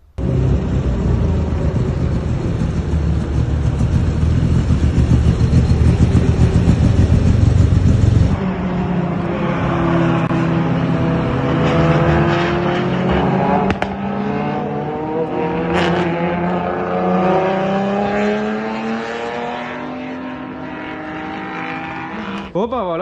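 A Renault Super 5 GT Turbo running without its turbo gives a loud, rough engine drone up close, then settles into a lower note with rising and falling revs as someone talks over it.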